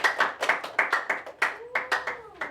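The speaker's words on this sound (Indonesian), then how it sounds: "kasih tepuk tangan untuk kelompok 4" Classroom clapping for a student group, a loose burst of sharp hand claps in an uneven rhythm, close and fairly loud, with no voices over it.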